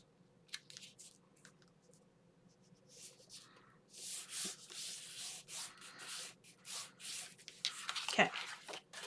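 Paper gets folded and rubbed with a burnishing tool while a folio is made, giving close, soft scraping and rubbing strokes in irregular bursts that grow louder toward the end.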